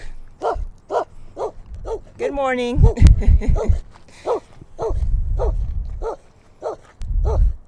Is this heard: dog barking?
yes